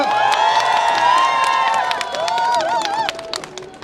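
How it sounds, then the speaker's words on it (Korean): A crowd at a union rally breaks into sustained applause and cheering, with raised shouting voices riding over dense clapping that thins out toward the end. "힘있는 박수를 부탁드리겠습니다. 힘있는 박수 부탁드리겠습니다."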